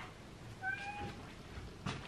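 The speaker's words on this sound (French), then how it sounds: "j'ai donc sa copine qui est là en train de miauler" A house cat meows indoors, two or three short, clear mews close by, with faint household noise in the background.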